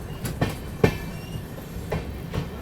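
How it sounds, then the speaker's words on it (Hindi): Shiv Ganga SF Express (12559, Banaras–New Delhi) gathering speed as it leaves Gyanpur Road station, with rhythmic clickety-clack of wheels over rail joints in several distinct beats over a steady rumble. "अच्छी खासी स्पीड पकड़ ली है भाई इस स्टेशन को छोड़ते टाइम में।"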